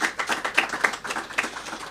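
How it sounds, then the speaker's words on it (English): Audience applause at an award ceremony, a run of fairly quick, even claps from a modest crowd, moderately close and steady for the whole stretch with no voices over it. "let's get a round of applause again"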